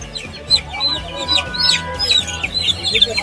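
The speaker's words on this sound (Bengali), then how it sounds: "এইগুলো হচ্ছে টাইগার মুরগি" Tiger chickens clucking at the Tongi bird market in Bangladesh: several birds nearby make busy, overlapping clucks and squawks, with a low market hubbub underneath.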